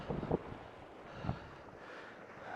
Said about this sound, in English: Wind is a little strong today.